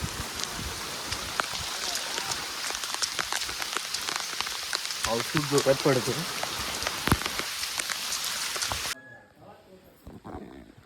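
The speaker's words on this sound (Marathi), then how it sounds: "पाऊस खूप जोरात पडतोय." Heavy rain pours steadily with dense pattering on surfaces, a brief voice mixed in, then cuts off to near quiet at the end.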